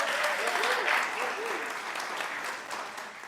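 Audience applause at a storytelling event, a warm burst of clapping from a small indoor crowd that swells and then tapers off, with some voices and cheering mixed in.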